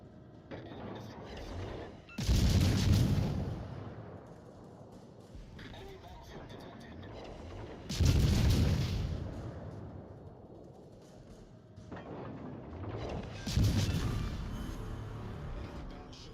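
Warship guns in a naval video game fire three heavy salvos spaced several seconds apart, each a loud sharp blast with a long rumbling decay, while a voice talks quietly between them.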